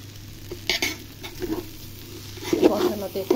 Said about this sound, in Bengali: এবার আমি কষিয়ে নিচ্ছি।